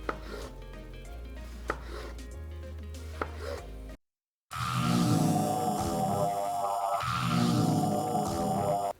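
A knife slices Roma tomatoes into rounds on a board with a few crisp, separate cuts. After a brief pause, a louder, dense stretch of kitchen clatter follows. No one speaks.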